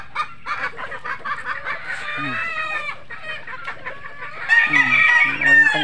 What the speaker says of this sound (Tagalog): may inahin pa tayo na bit-bit na mga sisiw.